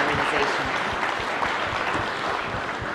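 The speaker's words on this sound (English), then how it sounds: "let me ask everyone to give a warm round of applause for this awesome panel on customs modernization." Audience applause for a customs modernization panel at a U.S.–Ghana business forum, a dense, steady wash of many hands clapping throughout, fairly loud and close.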